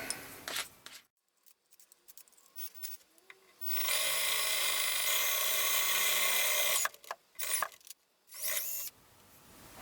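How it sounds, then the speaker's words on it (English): A 1/4 inch drill bit bores a hole through the metal chassis of an SB200 linear amplifier: about three seconds of steady, close whining drill grind, with handling clatter and clicks before and after. "I'm going to jump up to the 1/4 inch drill bit."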